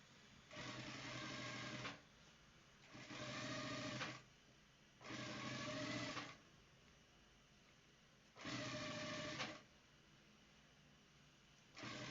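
Sewing machine running a reinforcing top stitch on a vintage shirt, in four long steady bursts of whirring separated by short pauses, close and fairly loud with no voices.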